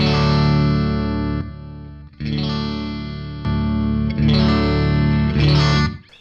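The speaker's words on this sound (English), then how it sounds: "The boost section on its own also sounds really good into a tube amp." An electric guitar runs through the boost section of a Muzzsimp pedal into a tube amp, playing full, warm sustained chords in four loud strums, each left to ring out.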